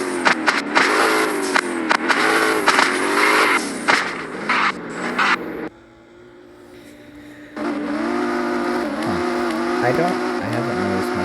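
Stock car engine in the Prodigy Drift video game, revving and droning loudly with rising pitch sweeps, dropping to near quiet for a couple of seconds before the engine note returns and climbs again, steady and close.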